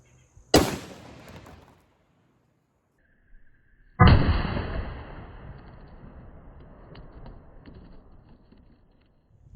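A .308 rifle fires into a block of clear ballistics gel, one sharp, loud crack that fades quickly. A second heavy boom follows a few seconds later and rumbles away slowly, with no talking.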